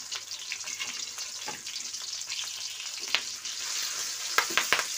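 Spices fry in oil with fried shallots, a continuous close sizzle with crackling pops and the scrape of stirring throughout.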